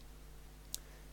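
One sharp, quiet computer mouse click sounds alone against low room hum.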